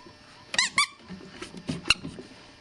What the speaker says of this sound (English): This is the squeaker from the hedgehog, and it's very good.